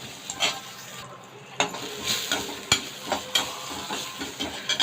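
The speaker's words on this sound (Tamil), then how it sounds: "இதை வந்து ஒரு அஞ்சு நிமிஷம் நல்லா வதக்கிட்டு வந்துடலாம்" Ginger, garlic and green chillies sizzle in a hot pan as a spoon stirs them, giving a steady frying hiss with repeated scraping knocks and clinks, close up.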